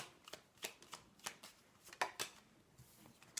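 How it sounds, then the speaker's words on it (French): Cards from an oracle deck are shuffled in a quick series of soft riffling bursts and flicks, close and fairly faint, with no voice. "Allez, dernière petite carte avec l'oracle des Lumières."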